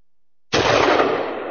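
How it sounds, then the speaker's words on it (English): Single gunshot sound effect played on a radio show: one sharp, loud blast after a brief silence, trailing into a long, even decay with no voices. "Got your gunshot sounds handy?"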